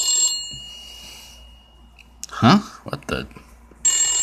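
A malevolent telephone rings from a public telephone booth in the horror film 976-EVIL 2, with short bursts of bright ringing at the start and again at the end, while a person speaks briefly in between.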